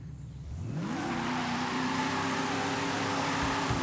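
Muscle car in Forza Horizon launching from a race start, the engine climbing steeply in pitch and then holding a loud, steady roar under hissing wind and tire noise.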